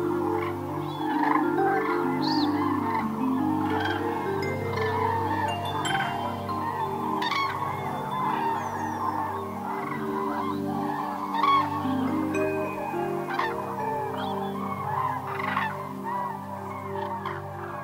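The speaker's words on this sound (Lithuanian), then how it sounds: "Žuvinto ežero apylinkėse gali išvysti tūkstantinius keliaujančių gervių pulkus." Thousands of migrating cranes gather around Lake Žuvintas, their flocks calling in a dense, continuous chorus of overlapping trumpeting and honking cries. The calls are steady and layered, with some birds nearer and many farther off, and no talking is heard.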